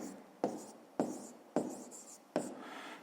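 A pen writes an answer on paper, four short scratchy strokes landing about every half second, each starting sharply and trailing off, quiet and close in an otherwise hushed room.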